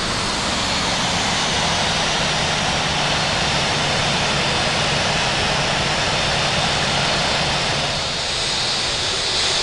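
Roaring jet engines of a departing aircraft on runway 27 left at London Heathrow in a flight simulator game, a loud, dense, continuous rumble and whine holding steady without letup.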